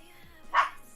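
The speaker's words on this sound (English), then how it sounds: "I am so sorry that my dog is being awful." A single short dog bark, close and fairly loud, rising briefly over a quiet room.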